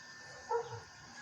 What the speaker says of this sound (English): his dog crying to come in the house again